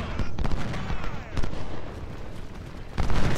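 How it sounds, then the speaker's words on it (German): Civil War cannon artillery fire in the strategy game Ultimate General: Civil War at the Battle of Cold Harbor, heard as loud repeated booming volleys over a continuous rumbling battle din, with no clear pause. "Na gut, die Kanonen haben was zu tun."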